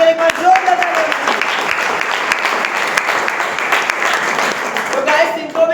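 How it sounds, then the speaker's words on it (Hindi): Loud, sustained applause from an audience at a company gathering, dense clapping with sharp individual claps standing out, while a voice speaks over the start and end. "मैं चाहता हूँ इनके लिए एक बार जोरदार तालियां"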